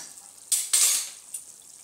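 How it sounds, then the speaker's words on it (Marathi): Pumpkin and drumstick pieces are stirred in a pan for South Indian hotel-style sambar, giving two quick scraping sweeps followed by a softer third, with a faint sizzle underneath and no voices. "असं थोडंसं मिक्स करूया"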